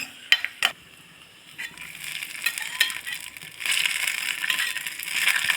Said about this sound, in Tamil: முந்திரி இதை செவரை வறுத்து அதில் கொட்டிடலாம் இப்போ இதை வந்து அந்த பாயசத்தில் கொட்டிடலாம்